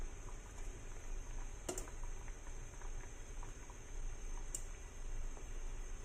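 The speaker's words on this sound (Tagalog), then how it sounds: "So, ito na guys, kumulo na yung ating sabaw." A pot of milkfish sinigang broth at a steady boil, soft continuous bubbling and faint popping with a couple of sharp clinks, quiet and close, no one speaking.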